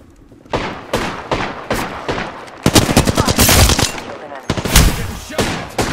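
Automatic gunfire in Apex Legends: rapid, loud bursts of shots close by, building in intensity, with short pauses between volleys and heavy booming impacts layered in.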